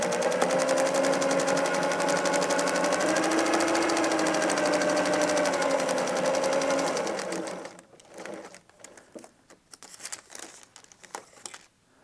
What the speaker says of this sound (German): Wir verriegeln und wir nähen.